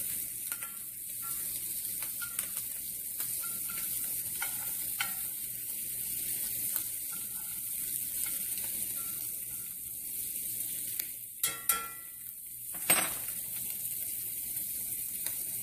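Salmon fillets sizzling steadily in a hot frying pan while dill salmon is being cooked, a constant close hiss with a few louder crackles and spits near the end and no talking.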